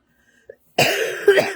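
A single harsh, close cough from a person with a cold bursts out after a brief quiet moment, followed by a rougher second hack.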